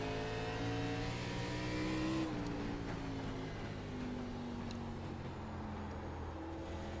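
An ARCA race car engine in the iRacing sim on a short track holds a loud, steady droning tone. The pitch steps and shifts partway through as the throttle comes back in; no voices.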